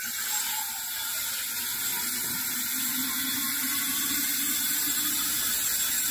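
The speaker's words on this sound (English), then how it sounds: "I sometimes fill up my drinking bottle from the tap in our kitchen." Drinking bottle filling from a kitchen tap, a steady hissing rush of running water that holds an even level throughout, with a faintly rising tone as the bottle fills, no voices.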